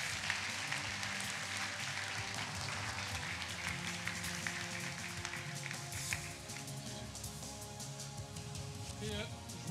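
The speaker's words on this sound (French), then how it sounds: "je pense qu'on peut vous applaudir et vous féliciter" Applause at a mayor's New Year ceremony, crisp individual claps scattered over a room with steady background murmur and voices, fairly quiet and continuing throughout.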